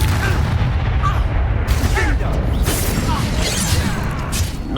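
A Confringo fire spell in Hogwarts Legacy bursts in heavy booming blasts, mixed with combat effects and brief spoken lines throughout the fight.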